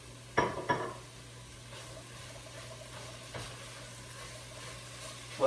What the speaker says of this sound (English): Saute those garbanzo beans for a little bit until they get a little golden brown, and I'll add a little more olive oil.